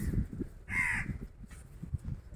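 A single crow caws clearly in the open air on a Lakshadweep island. A brief, moderately distant call sounds over a low background rumble.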